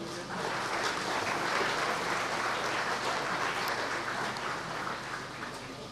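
Steady, even applause from a gathered crowd at a 2005 foundation stone ceremony for business zone infrastructure in Komenda, sustained for several seconds at moderate distance before tapering slightly at the end.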